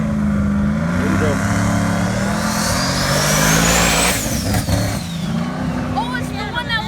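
A Chevy Caprice donk's engine revs loud and close before a drag race, a rising whine sweeping up and falling back over a steady rumble, with people talking nearby throughout.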